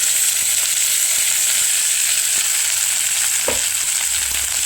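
Cooked rice for chitranna in a hot pan gives a loud, steady frying hiss with a few soft stirring knocks, one slightly heavier near the end, close up and with no talking.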